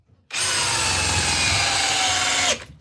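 DeWalt 799 cordless drill in drill mode, speed 2, with a 3 amp hour battery, driving a 6-inch Timberlock screw into wood. A loud, close, steady motor whine and grinding starts abruptly and runs about two seconds before stopping.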